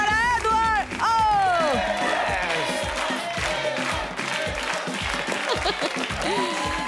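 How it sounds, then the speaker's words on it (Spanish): A television dating-show studio audience applauds and cheers for a contestant named Edward. Lively clapping and crowd noise play under bright musical stings and a host's voice. "¡Aplauso para Edward!"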